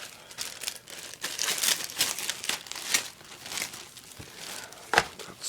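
Crinkly tearing and crumpling as taped packaging is ripped open around a surplus ACU MOLLE load carrier vest with pouches, in a series of close, uneven bursts with a sharper rip near the end.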